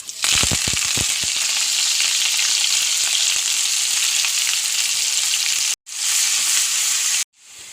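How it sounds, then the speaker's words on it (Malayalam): Garlic, shallots and curry leaves fry in hot oil in a pan with a steady, loud sizzle. A few crackling pops come near the start, and the sound cuts out briefly twice near the end. "ആദ്യം ചട്ടി വെച്ചു, എണ്ണ ഒഴിച്ചു, വെളുത്തുള്ളി, ചുവന്നുള്ളി, വേപ്പിൻ്റെ ഇല"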